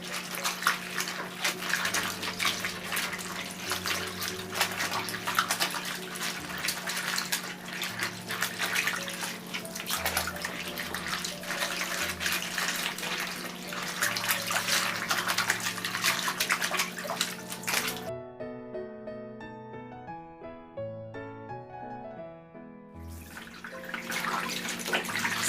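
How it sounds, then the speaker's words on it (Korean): Salted napa cabbage is rinsed and shaken in water. There is continuous splashing and sloshing close by, with running tap water throughout and a short pause before the washing resumes. "배추 사이사이를 문지르면서 흔들어 씻어주세요."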